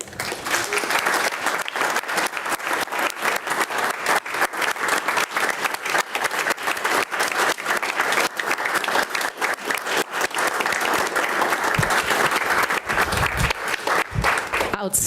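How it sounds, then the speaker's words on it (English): A packed room at a Yankton city commission meeting breaks into sustained, loud applause lasting about fifteen seconds, dense and even throughout, honoring a state-winning team of young players. "Will you please join me in a round of applause?"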